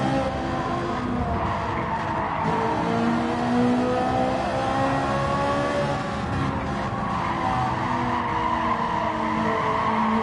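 Race cars circling the Autopolis circuit during a daily race, tires squealing in long sustained wails over continuous loud engine roar and revving, close and steady throughout.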